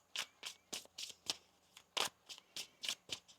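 Tarot cards being shuffled by hand, a quick series of about a dozen crisp riffling bursts in a steady rhythm, close and fairly quiet, with no talking.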